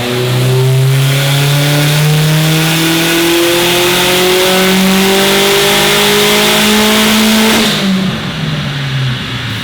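A Subaru STi engine on a dyno pull revs loud and close, pitch climbing steadily through the gears for about eight seconds before cutting off and winding down.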